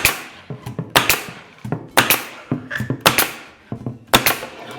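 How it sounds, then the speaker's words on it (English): A pneumatic staple gun fires repeatedly into the side of a ready-to-assemble base cabinet, giving sharp, close, percussive bangs in an irregular rhythm with brief gaps between shots. "take the gun and keeping the heel of the gun on the panel, push it all the way up into the corner, and then drive your staple in"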